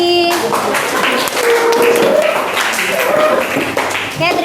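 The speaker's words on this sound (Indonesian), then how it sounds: "Aplaus dulu buat kelompok Rani" Classroom applause for a student group, a steady wash of clapping from many hands filling the room, fairly loud and continuous, with some voices mixed in.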